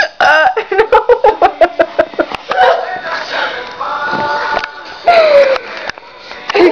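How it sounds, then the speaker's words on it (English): A run of sharp, squeaky hiccups comes in quick succession, about a dozen rhythmic bursts up close, followed by voiced squeals and laughter-like sounds and then a few more isolated hiccups. "Hiccups are the worst, dude."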